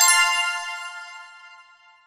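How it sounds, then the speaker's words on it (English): A single bright notification bell ding strikes once and rings out for about two seconds, fading evenly, clear and alone. "ring that notification bell"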